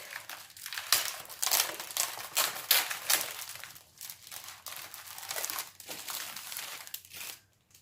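Packaging on a 30 by 30 centimeter paper pad is opened up close, with repeated loud crinkling and tearing of plastic wrap in uneven bursts and short pauses.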